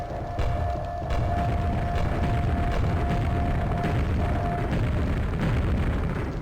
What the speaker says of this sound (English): Let's throw some grenades down